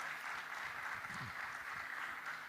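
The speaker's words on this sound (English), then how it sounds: "Please give a hand of applause to all our panelists." Audience applause for the panelists closing a panel at the G20 Digital Innovation Network 2022 conference, a steady, dense clapping from a sizable crowd sustained at even loudness throughout.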